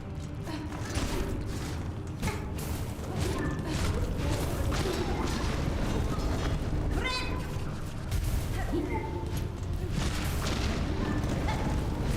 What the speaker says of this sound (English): it makes the explosion in a really big radius around an enclosed area